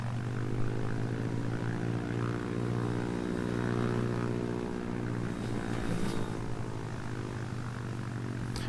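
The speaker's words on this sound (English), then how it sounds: "which is a loud prop plane, and you can play it to hear it" A loud propeller plane drones steadily overhead, its deep, even engine hum with strong harmonic tones holding throughout and swelling slightly midway, close and continuous with no talking.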